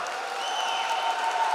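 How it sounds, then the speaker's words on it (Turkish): A crowd at a Turkish Sultanlar League women's volleyball match between Nilüfer and Sarıyer claps steadily and densely, with a few sustained whistle-like tones riding over the continuous applause. "Oyuncularını alkışlıyor."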